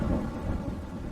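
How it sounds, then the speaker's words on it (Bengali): A thunderclap during a storm, a brief deep rumbling roll with rain noise underneath, fairly loud and unbroken. "একটু আগে বাজ পড়ার শব্দ পেয়েছি"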